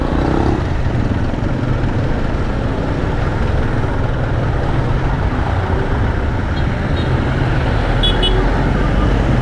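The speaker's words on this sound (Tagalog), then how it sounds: "Ang traffic." Steady roadway din from dense morning traffic on a route from Bacoor toward Quezon City, a continuous loud rumble of cars and engines with faint horn toots near the end and no clear talk.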